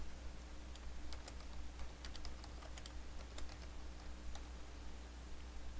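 Quiet typing on a computer keyboard to enter a file name, a short run of light, irregular key clicks over a steady low electrical hum, with no talk.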